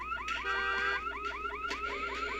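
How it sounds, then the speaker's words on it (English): A car alarm in the Silent Hill Shattered Memories video game wails in rapid, repeating rising chirps, loud and close, alone without talk. "The car alarm here"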